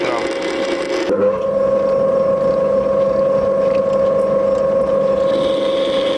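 Metal being turned on a lathe while making an M29x1.5 nut and a drawbar sleeve for an NGF-110Sh3 milling machine, heavy cut: a steady, loud cutting whine with a strong mechanical drone, continuous after a short opening burst.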